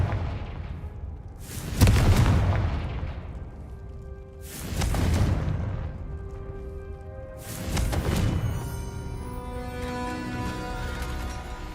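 Three heavy spell explosions from Bombarda and Confringo in Hogwarts Legacy boom out a few seconds apart, each a loud deep blast with a rumbling tail, and faint tonal game music follows.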